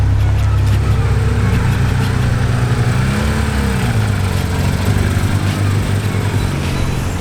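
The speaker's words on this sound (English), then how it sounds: "red Porsche coming up here." A red Porsche GT3 drives past at a Japanese and European car meet, its engine a loud, steady drone that swells slightly mid-pass amid constant crowd and outdoor noise.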